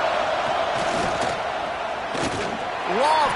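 A stadium crowd roars after a big third-down play in a college football video game between Texas and Auburn, a steady broad wash of cheering with a commentator talking over it.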